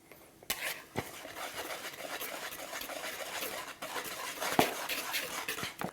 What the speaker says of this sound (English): I want you to take your whole mixture here, all your dry ingredients, and whisk it all together